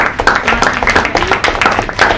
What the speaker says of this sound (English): let's give a warm round of applause to Sierra, who has worked so hard